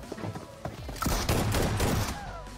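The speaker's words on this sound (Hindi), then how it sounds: "तीन शॉट मारा भाई उसने" Rapid bursts of video game gunfire crackle through a shooter match, several shots clustering into a dense volley in the second half, loud and close, with faint voices underneath.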